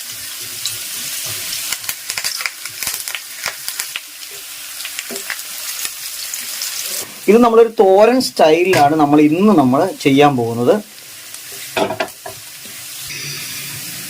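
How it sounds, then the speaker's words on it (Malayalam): Mustard seeds, onion, dried red chilli and curry leaves sizzle and splutter in hot oil for a thoran-style dish, a steady frying crackle with a person talking over it throughout. "നമ്മുടെ ഉള്ളിയും അതോടൊപ്പം തന്നെ വട്ടൽമുളകും കറിവേപ്പിലയും കൂടി ഇട്ട് നമുക്കൊന്ന് കടുക് പൊട്ടിക്കാം."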